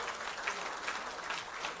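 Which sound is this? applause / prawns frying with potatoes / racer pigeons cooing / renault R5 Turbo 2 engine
applause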